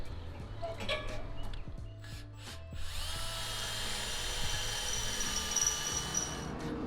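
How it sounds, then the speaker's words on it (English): A power drill whirs in short bursts, then runs steadily with a rising high-pitched whine as it bites through two metal brackets on a travel trailer, close and loud. "I'm just going to drill through both of these."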